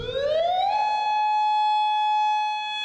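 Modulator siren with a quick upward sweep that settles into a steady, piercing tone, heard loud and alone for a few seconds.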